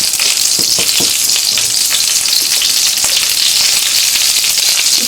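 Eggplant slices sizzle and crackle loudly in hot oil over medium-high heat, a dense steady frying hiss with frequent sharp pops from splattering throughout.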